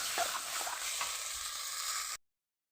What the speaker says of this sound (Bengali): মটনটা যত ভালো কষাবে তত খেতে স্বাদ হবে। তো এরকম করে আমি কষিয়ে নিই।